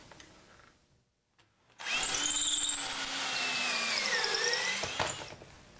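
A power drill bores dowel holes through a doweling jig into wood for an Arts and Crafts panel bed. One steady, whining run of about three seconds starts after a quiet pause and stops abruptly.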